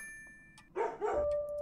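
A dog barks in the Hello Puppets Midnight Show video game, two quick close yaps right after a chiming tone, with a sustained ringing note lingering afterward and no talking.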